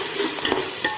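Tomato and spices sautéing in a pan for quail biryani, with a steady close sizzle, small stirring scrapes and brief louder bursts.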